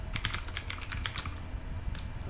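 A command typed on a computer keyboard while setting up a CM4 Lite NVMe SSD boot, a quick run of close, crisp keystrokes with a short pause near the end.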